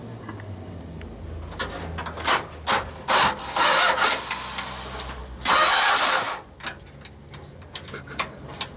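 A 1958 Ford F100 truck fitted with a 383 Mopar engine cranks at a truck junkyard, with several loud bursts of starter churning separated by short gaps and a ticking rattle in between, close and with no talk.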